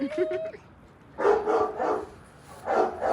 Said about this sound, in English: My dogs are barking back at yours.